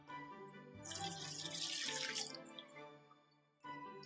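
Milk and then champagne poured into a bowl while mixing for a champagne mousse, a faint gurgling liquid stream that swells and tapers off, then starts again briefly.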